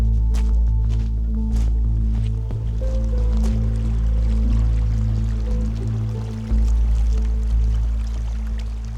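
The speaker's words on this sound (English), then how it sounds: "These rivers always sound like there's somebody talking because they're moving around so much" Fast glacial river rushing in the Alaskan wilderness along the Nabesna Road, a steady loud broadband roar of moving water with a deep low rumble, heard close by without speech.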